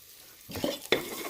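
Whole spices fry in oil with masala, starting as a quiet hiss before a spatula stirs through the pan with two scraping bursts over the sizzle, close up and without talk.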